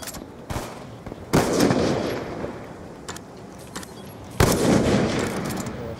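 A bomb explodes in a video game, with sharp blasts striking at intervals and loud bursts that fade into rumbling tails, alone without talk.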